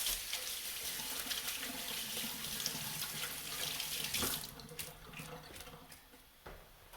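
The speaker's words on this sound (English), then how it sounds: "Let me wash my hands quick." Hands washed under a running kitchen tap after shaping seitan dough, a steady splashing stream that eases and breaks up near the end, fairly quiet and with no talk.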